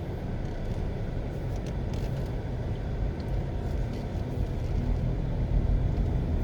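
Car driving along a road between May Pen and Denbigh in Clarendon, Jamaica, a steady low rumble of engine and tyre noise heard from inside the cabin, continuous and fairly loud, with no talking.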